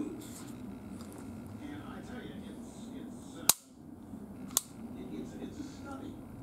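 Sig Sauer Legion P229 9mm pistol dry firing, a sharp metallic click of the hammer dropping followed about a second later by a second lighter click, heard close up over a room background with faint voice.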